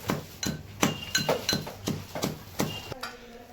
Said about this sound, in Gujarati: મરી ખાંડે છે મેડમ